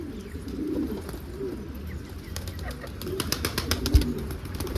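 Wild pigeons coo softly and repeatedly nearby over faint outdoor background noise, with a brief flutter of wings.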